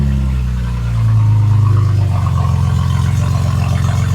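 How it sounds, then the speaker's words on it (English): BMW M2 G87 engine running loudly nearby, a deep steady rumble that swells after the first second and holds a low droning note to the end. "This car is one of the loudest G87s I ever heard."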